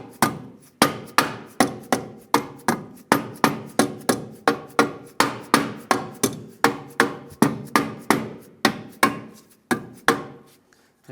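Rapid hammer taps driving a rear wheel bearing into the knuckle of a 2003-2011 Honda Element, about two dozen sharp metallic blows in a steady close rhythm with short ringing decays.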